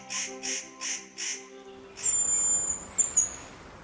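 A small songbird in the autumn taiga gives thin, high chirps and whistles. They follow a few steady tonal notes and come across as quiet and fairly close.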